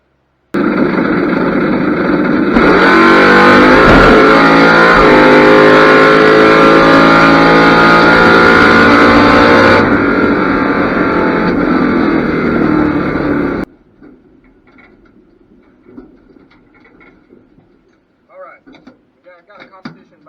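A bracket racing car roars down a drag strip in a loud, sustained engine blast lasting about thirteen seconds, then cuts off abruptly to near silence with faint scattered sounds.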